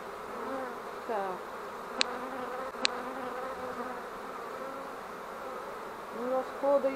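Steady low buzzing of many bees in a swarm that moved into an empty hive, a continuous drone with a couple of sharp clicks and a louder buzz near the end.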